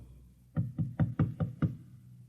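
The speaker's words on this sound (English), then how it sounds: "And then there was a knock on the door." Six firm knocks on a door in a quick, even rhythm, close and clear against a quiet room with no talking.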